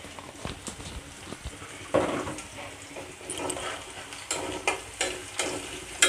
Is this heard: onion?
yes